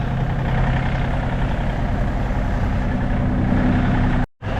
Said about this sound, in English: Looks like I got a bit of an exhaust leak there.